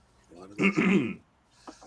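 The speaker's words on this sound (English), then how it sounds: "my cough is getting worse" A single harsh throat-clearing cough bursts out close to the microphone, followed by a faint short sound after a pause.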